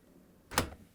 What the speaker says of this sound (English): And we can close the door.